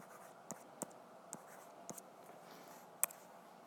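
Pen or pencil strokes sound as a math problem is written out, with soft, close, scattered taps and scratches on paper in quiet surroundings.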